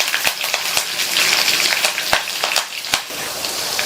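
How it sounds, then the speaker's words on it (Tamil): Ginger, green chillies and curry leaves sauté in hot oil, a steady close sizzle with several sharp spoon-against-pan taps and scraping stirs scattered across it, no voices. "கூடவே 2 பச்சை மிளகாய், கறிவேப்பிலை எல்லாத்தையும் லைட்டா வதக்கி விட்டுட்டு"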